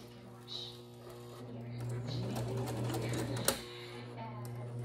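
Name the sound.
sewing machine sewing shrub cover fabric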